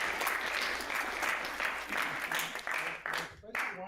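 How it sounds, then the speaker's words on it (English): An audience at a prayer gathering applauds the organising committee, a steady wash of clapping at moderate level that thins and breaks into patchier claps near the end. "So please join me in applauding their efforts"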